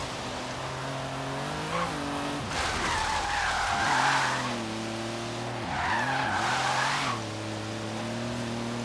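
A car drifts in Forza Horizon 3, its engine droning steadily while tires squeal in two long skids, each rising and falling over a few seconds, loud and close with no talk.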